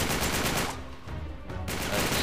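Automatic gunfire in the video game Uncharted 3: Drake's Deception, loud rapid bursts filling most of the clip with a brief lull in the middle before the shooting resumes.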